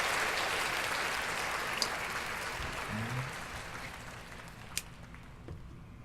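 Faint applause from a small group, a soft steady patter of clapping heard in the background of a sports podcast and fading gradually, with a low voice murmuring briefly partway through.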